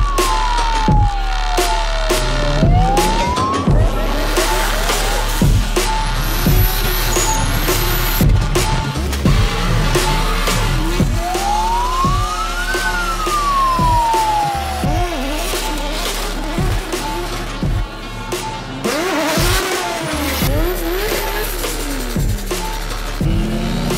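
Powerful drift cars rev and accelerate during a street parade for the Driftmasters GP King of Riga event, engines rising and falling in pitch through repeated loud passes with tire noise and a busy outdoor crowd backdrop.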